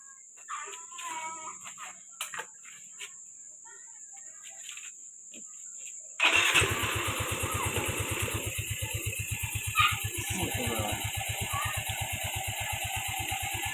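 A Yamaha Mio i 125 scooter with a newly replaced slider piece idles nearby with a steady, even putter. It starts abruptly about halfway through, after a quiet stretch of crickets and faint background noise.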